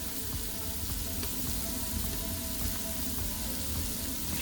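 Chunks of Italian sausage fry in a soup pot, a steady close sizzle with faint stirring clicks and no talking.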